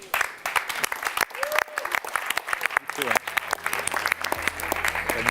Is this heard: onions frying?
no